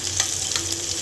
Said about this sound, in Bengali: তো পেঁয়াজগুলোকে আমি এখন লাল করে ভেজে নিব